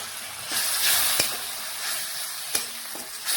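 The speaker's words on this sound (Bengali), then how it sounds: "এটাও ভালোভাবে নাড়াচাড়া করে মিশিয়ে মশলা একটু ভেজে নিয়েছি" Spices with Kashmiri red chili powder frying in a pan for a cauliflower and egg dish, a steady close hiss and sizzle with a few sharp utensil clicks as they are stirred.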